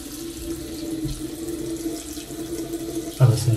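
Water runs and drains steadily through a kitchen sink just unclogged and reassembled, a continuous close gurgling flow with a louder splash near the end.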